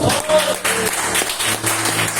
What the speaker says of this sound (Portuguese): Gostaria que você aplaudisse Jesus neste momento